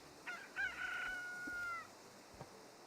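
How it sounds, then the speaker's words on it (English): A rooster crows once in the RuneScape Easter event quest: a single close, loud cock-a-doodle-doo with a rising then long held call, followed by a faint click. "I got a rooster just crowed right down my earhole"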